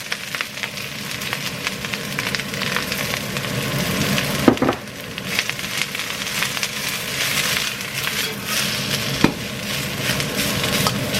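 Onion and spring onion sizzle and crackle steadily in a hot pan for a quick rice noodle stir fry, with occasional stirring scrapes and a sharp clatter midway, close and loud throughout.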